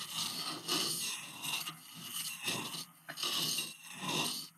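A straight woodcarving chisel is rubbed back and forth across a sharpening stone, giving soft, repeated rasping strokes in a steady rhythm at close range, with no talk.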